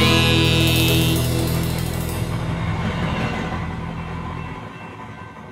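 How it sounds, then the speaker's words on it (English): A train rumbles past with a broad, loud roar that slowly fades over a few seconds, a high tonal whine audible early on. "Choo-choo, choo-choo, choo-choo, here comes a train."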